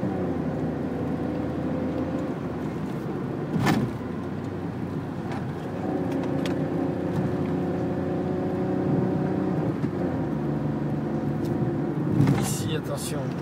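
A Renault Kangoo rolls downhill on a road, giving a steady close engine hum and road rumble inside the car. A few brief knocks and bumps break the drone, and a voice talks over it.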